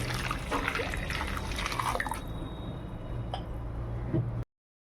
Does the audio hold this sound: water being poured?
yes